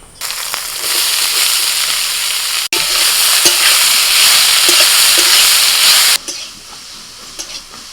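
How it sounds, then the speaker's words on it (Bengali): Leafy greens fry in oil tempered with black mustard seeds and dried red chilli, giving a loud, dense sizzle with stirring scrapes, a sharp knock partway through, then a quieter stretch near the end. "শাকটা ভেজে নিচ্ছি"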